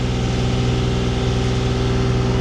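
A river boat's engine drones steadily and loud throughout a short ride, an even low hum with no talk over it.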